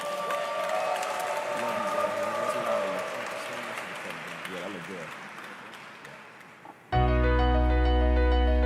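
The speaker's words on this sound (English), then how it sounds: "One more round of applause" Sustained applause and cheering fill a banquet hall at an awards dinner, dense and steady for several seconds, with voices mixed in, before giving way abruptly to loud music.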